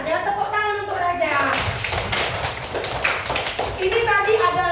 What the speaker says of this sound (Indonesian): tepuk tangan untuk Raja